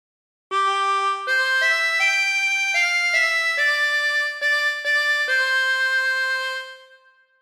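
Harmonica plays the melody of Waltzing Matilda alone, a clear sequence of sustained breathed notes stepping up and down, ending with a fading held tone.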